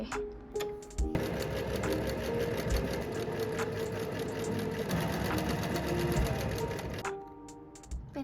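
A sewing machine, run by a first-time user, stitches fabric with a fast, steady whirring clatter of needle strokes. The sound is close and loud, starts abruptly, runs for about six seconds and then stops, with no talking.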